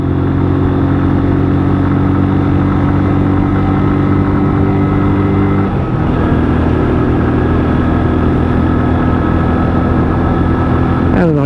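A WK Scrambler 125cc motorcycle engine runs steadily at a moderate road speed, a loud continuous mid-pitched drone with a brief dip around the middle as the revs shift, heard up close throughout.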